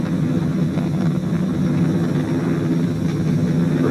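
SpaceX Falcon 9 rocket engines throttled down during ascent on the first crewed SpaceX mission to the International Space Station: a loud, steady, broadband roar with no breaks.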